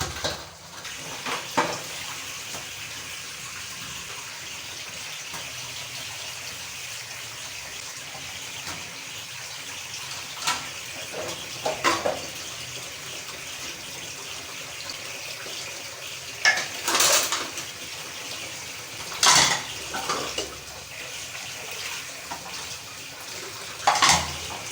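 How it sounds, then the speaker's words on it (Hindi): Dishes washed with a sponge under a running kitchen tap, a steady stream of water with intermittent clinks and clatters of utensils and pots, close by, no talking. "बर्तन धोते हैं।"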